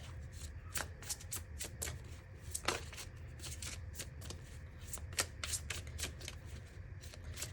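Tarot cards are shuffled by hand in a continuous run of crisp riffling flicks and soft slaps, close and fairly quiet, with no voices over it.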